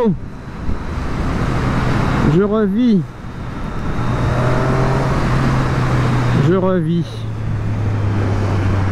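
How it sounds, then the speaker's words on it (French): A motorcycle ridden on the road, with a loud, steady roar of engine and wind throughout while someone speaks briefly twice over it. "ça fait du bien de prendre la moto"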